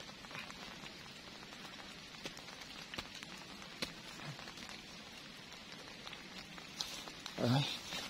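Steady rain patters softly on leaves and surfaces in a forest, a quiet continuous hiss with scattered drops, ending with a brief louder rustle.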